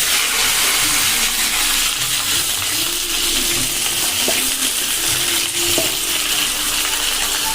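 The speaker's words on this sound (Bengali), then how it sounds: "কড়াতে তো তেল দিয়ে দিয়েছি, এবার দেবো কালো জিরে একটু বেশি করে। এবার এইগুলো সব দিয়ে নাড়তে থাকবো।" Beans and black cumin frying in oil in a kadai, a dense, continuous sizzle with faint clinks and scraping as they are stirred, loud and close throughout with no talking.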